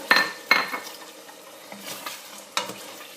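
Beef frying in a pot for a lentil stew gives a soft sizzle under a few sharp clinks and scrapes of a spoon against the metal, with clear knocks near the start and another toward the end.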